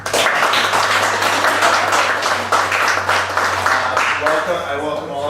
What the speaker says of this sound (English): Let's give another round of applause for David Norris, our music director